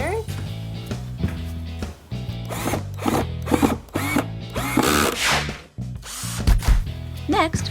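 A cordless power drill driving screws into the corners of a small wooden workshop bench frame, in repeated short whirring bursts with clicks and knocks between them, under a voice speaking throughout.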